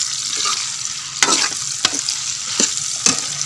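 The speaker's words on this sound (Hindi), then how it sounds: "अब हम इसको मिक्स करेंगे, तो इसको थोड़ा सा ब्राउन करेंगे" Ridge gourd stirred and browned in a pan, a soft constant sizzle broken by several sharp scraping strokes of a spoon at irregular intervals, close up with no voices.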